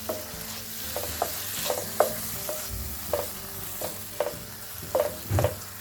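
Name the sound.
tomato juice added to sizzling minced meat in pan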